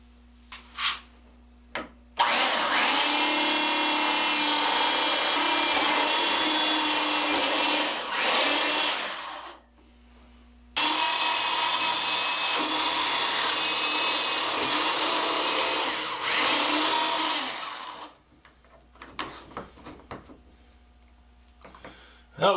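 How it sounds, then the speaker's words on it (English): A drill motor bores holes for barn door hardware through a drilling guide, giving two long sustained whirring runs of about seven to eight seconds each, loud and close, with brief quiet pauses and small clicks between. "This is only the second time I've used this drill."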